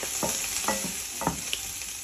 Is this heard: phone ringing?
no